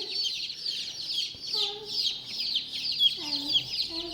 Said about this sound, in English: Saying hi to the chickens, Anastasia?